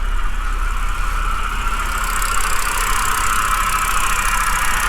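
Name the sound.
BMW 528xi engine idling, loud tensioner or pulley noise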